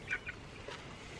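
Birds near a dog at a vet trip give two short, faint duck-like quacks in quick succession, followed by soft, quiet background noise.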